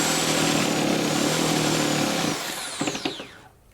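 A jigsaw or reciprocating saw cuts through a wooden stair stringer with a loud, steady buzzing rasp, then winds down with a few knocks as the blade slows and stops.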